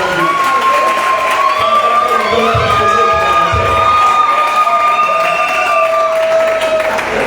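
A wedding party crowd acclaims Jesus with sustained loud cheering, whoops and shouting, the celebration continuing at full volume without pause.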